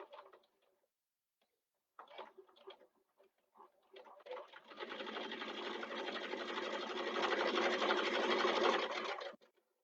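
Sewing machine stitching fabric for a sling bag: a few short stop-start bursts, then a steady, fast, close mechanical whirring run of several seconds that stops abruptly.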